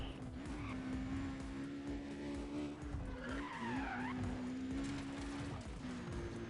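Sustained tire skidding from a braking car in the Need for Speed Undercover video game, a long unbroken squeal under a droning engine, loud and continuous with a brief higher screech partway through.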